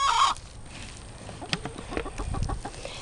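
Hens cluck near a chicken coop in the morning, with a short loud burst of calling at the start and then softer scattered clucks and rustling close by.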